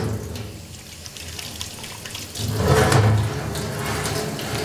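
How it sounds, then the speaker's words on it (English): Water rinsing a large metal slip ring during restoration, a steady splashing, hissing flow from a hose or tap that swells louder partway through, close by with no talking. "So we'll give this a good rinse."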